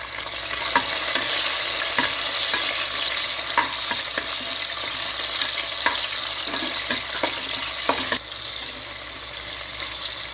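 Onions and tomato sautéing in oil in a pan for country chicken biryani, giving a steady loud sizzle with occasional stirring scrapes, and the frying noise drops slightly near the end.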